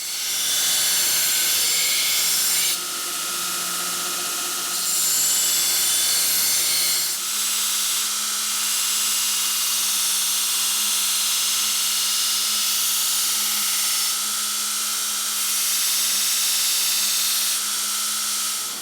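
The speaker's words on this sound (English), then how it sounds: "what you see me doing here is called convex grinding" A belt grinder convex grinds a forged fantasy blade, using the slack of the belt, in a steady, loud, continuous high whine that shifts in pitch as the pressure changes.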